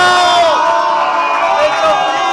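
A crowd of Paraguayans shouts a Guaraní war cry together, loud and near, with raised voices rising and falling in unison for a couple of seconds.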